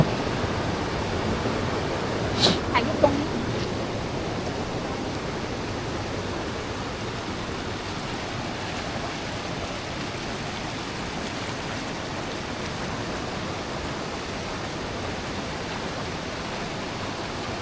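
Strong stream water rushes steadily in rainy season, a constant broadband roar with no breaks, plus a couple of faint brief knocks early on.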